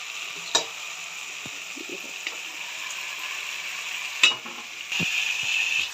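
Okra stirred in a masala of yogurt and oil, with a faint sizzle under a few sharp scrapes and clunks of a spoon against the pan, and a louder hiss rising at the end.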